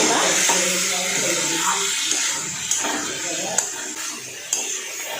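Water running from a tap into a metal mixing bowl while it is rinsed in a kitchen sink, a steady splashing hiss with a few light clinks of the bowl, no talk.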